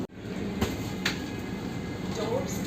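Inside a Vande Bharat express train running from Bangalore to Mysore: a steady, even rumble of the moving carriage fills the cabin, with a couple of faint knocks or clicks along the way.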